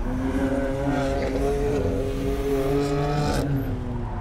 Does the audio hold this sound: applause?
no